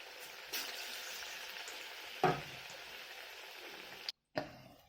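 Bhola fish chops frying in a pan, a soft, even sizzle running throughout with a couple of sharper clinks as pieces are added, fairly quiet and close, with a brief dropout near the end.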